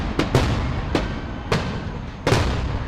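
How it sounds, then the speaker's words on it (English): Grand finale fireworks at an outdoor community festival, with four or five sharp, loud bursts at uneven intervals, each booming explosion followed by a short rumbling decay. "There are explosions, very loud noises."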